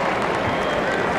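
A crowd applauds the rookies at the end of the 1997 NBA Rookie Challenge basketball game, steady dense clapping filling the arena with a soft murmur beneath it.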